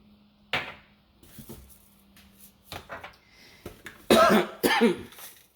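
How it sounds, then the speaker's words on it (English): A person with flu coughs a few times, harsh and close, mixed with clattering and knocking as plastic spice containers are handled, with quieter rustling in between. "Excuse the cough."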